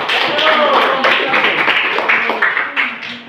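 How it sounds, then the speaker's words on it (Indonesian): A classroom group applauding after a presentation, a short burst of close, loud hand clapping mixed with some voices talking over it. "berikan aplaus dulu"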